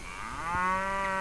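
A single drawn-out cow moo from a herd of cattle in the medieval video game Mount & Blade, heard clearly and alone, rising then holding steady for about a second.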